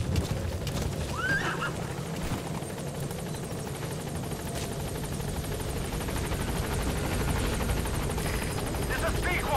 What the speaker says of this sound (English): Perfect place for a helicopter to land.